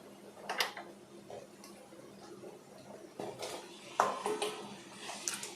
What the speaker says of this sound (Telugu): సో మనం ఆ చికెన్ని ఇందులో యాడ్ చేసుకుందాం.